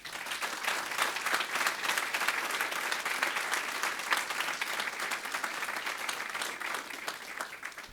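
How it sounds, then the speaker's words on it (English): An audience at a hockey Hall of Fame induction ceremony applauds steadily, a dense sustained clapping from a crowd in a hall with no break. "So let's have another round of applause for our four Hall of Famers."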